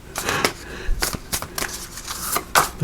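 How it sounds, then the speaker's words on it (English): A deck of playing cards is shuffled by hand in a quick run of riffling, flapping bursts, close and fairly loud, with no voices. "Let me shuffle one more time too."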